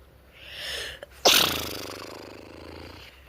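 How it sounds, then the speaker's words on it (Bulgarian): One person sneezes once, loudly and close: a short indrawn breath, then a sharp explosive burst that trails off into breathy noise, with no talking. "Малко кихам."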